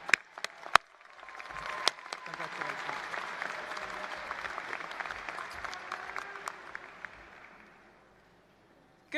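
Commencement audience applauding a student speaker at a university business school graduation ceremony, a dense, steady wash of many hands clapping that swells and holds for several seconds, then fades to near silence.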